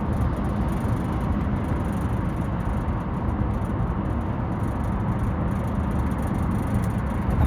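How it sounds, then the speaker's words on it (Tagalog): Road traffic on a sunny morning, heard as a steady, dense rumble of passing vehicles with no distinct single pass-by and no voices. "medyo matraffic"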